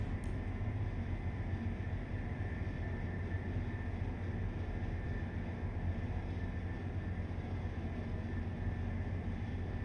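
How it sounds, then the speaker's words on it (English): Train rolling on rails in the Train Life railway simulator, a steady low rumble and hum that holds without a break, heard alone and fairly quiet. "We can just let the train pretty much roll from this point on."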